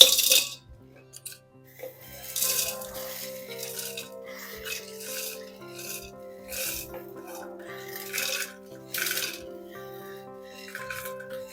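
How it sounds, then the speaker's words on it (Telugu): Whole garam masala spices tumble into a mixer jar as a dry rattling and clinking cascade in several bursts, close and fairly loud, with a steady tonal hum underneath and no talking. "ఇప్పుడు మనం ఈ మిక్సీ జార్లోకి షిఫ్ట్ చేద్దాం"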